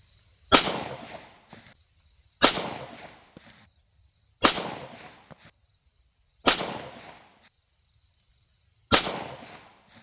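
A SIG P365 Xmacro pistol with no compensator fires five rounds, each shot a sharp, loud crack followed by a short decaying echo, spaced about two seconds apart, with a faint insect-like high hum between shots.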